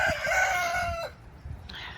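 A rooster crows once up close, a strained drawn-out call that cuts off sharply, followed by soft low clucking from nearby chickens.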